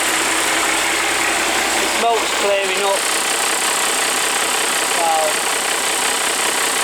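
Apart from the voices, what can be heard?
car engine idling after electrical repair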